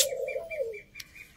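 A pigeon in a loft coos once in a short low note, followed by a few soft repeated chirping pulses and a brief sharp click, all fairly quiet and close.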